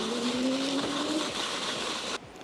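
Simply electric children's snow scooter in motion, a continuous whirring, rushing drone with a rising whine that holds steady, then cuts off abruptly near the end.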